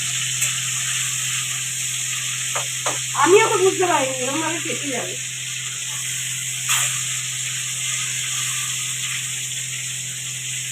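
Pointed gourd (potol) frying in oil under a covered pan, a steady hiss of sizzling with occasional sharp pops, while someone speaks briefly over it.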